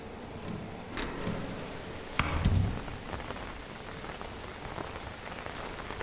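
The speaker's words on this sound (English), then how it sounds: "It's raining again." Steady rain falls in a video game, a continuous hiss of drops on surfaces with a brief louder splash and thud midway.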